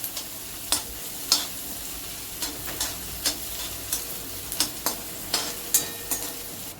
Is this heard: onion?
yes